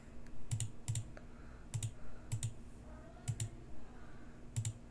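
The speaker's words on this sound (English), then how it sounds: "I'm actually just clicking at this point" Clicking from a gaming session of shadow boxing battles: short, sharp clicks in loose pairs and small bursts, spaced about every half second to a second, close and fairly quiet over a low steady hum.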